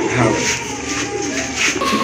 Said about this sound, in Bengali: আরেক জোড়া কবুতর চলে আসছে এখানে